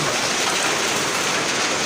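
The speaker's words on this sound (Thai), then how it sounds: "ฝนตกขนาดนี้แล้วครับ" Heavy rain pours down outdoors in a dense, constant hiss with no break, loud and close and without any voices.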